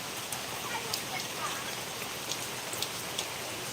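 Steady rain falls in Bicol, a dense, even hiss of drops on surfaces with occasional sharper close patters, continuous and fairly soft throughout with no talking.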